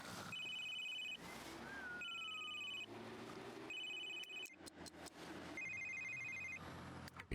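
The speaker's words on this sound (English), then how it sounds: "Wait, whose phone is ringing?" A phone rings in The Sims 3: repeated electronic ringtone bursts sound in a steady pattern, with a short sliding tone partway through, over a low background of game music and ambience.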